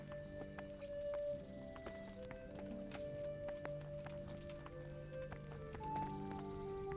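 Horse hooves clip-clop in the medieval game Kingdom Come: Deliverance, with a possible neigh over a steady bed of ambient game sound and music tones, fairly close and continuous.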